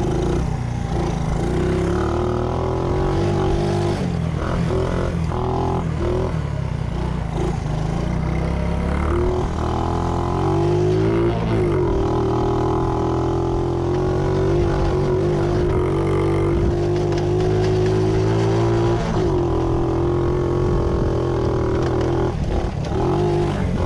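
A Yamaha PW 50 dirt bike engine revs loud and close, with a constant buzzing drone that rises and falls in pitch as the throttle is worked, with no pauses.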